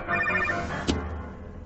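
An animated telephone rings unanswered in a cartoon, its bell trilling in repeated short bursts at moderate volume, ending with a soft thump and then quiet background sound.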